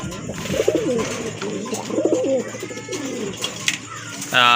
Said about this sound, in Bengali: এটা কিন্তু বুঝাই যাচ্ছে এই যে দেখেন একদম অ্যাক্টিভ কবুতর